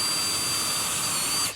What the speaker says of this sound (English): Now I need to drill a hole